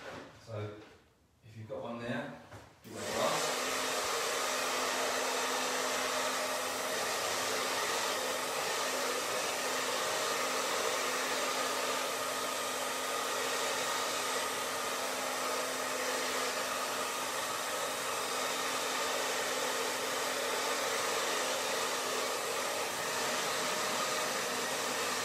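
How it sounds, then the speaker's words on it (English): After a few seconds of quiet shuffling, a hair dryer switches on and blows with a steady, loud whooshing hum that continues to the end. "Now I'm going to dry it a little bit with my hair dryer."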